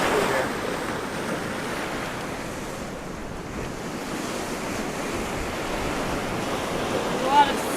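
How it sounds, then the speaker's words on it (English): Small waves break on a remote beach on the Baja coast: a steady, fairly close surf wash, roughened by wind buffeting the microphone and swelling slightly near the end. "A little wave through there."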